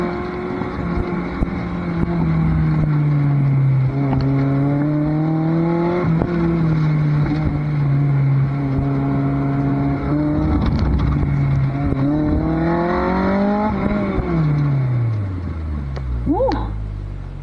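A K-swapped Toyota MR2 accelerating hard through corners, with a loud engine note rising and falling through gear changes and a final sweep up. The sound is heard from inside the car, with wind buffeting and speech at times.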